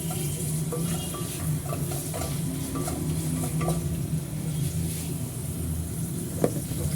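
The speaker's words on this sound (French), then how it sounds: "on va faire revenir les oignons" Onions sautéing in a pan for a snail and mustard stew, a steady low sizzle with repeated stirring scrapes, one sharper knock near the end, close and alone with no talk.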